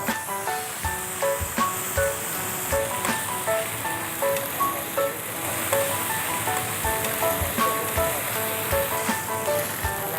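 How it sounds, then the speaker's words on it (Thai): Chicken skin searing skin-side down in a hot frying pan, a steady loud sizzle with crackling pops running throughout, close up, while soft music plays underneath. "เราก็จะจี่เอาด้านหนังเนี่ยค่ะลงบนกระทะให้ หนังมันสวยก่อน"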